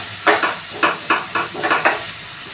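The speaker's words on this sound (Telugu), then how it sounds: "నూనె వేడెక్కింది, ఉల్లిపాయ ముక్కలు వేసుకున్నాం. పచ్చిమిరపకాయ కూడా వేసేస్తున్నాను." Onion pieces and green chillies frying in hot oil in a pan, with a steady sizzle and about seven brisk stirring scrapes in an even rhythm, close and moderately loud with no talking.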